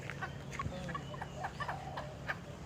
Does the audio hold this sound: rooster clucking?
yes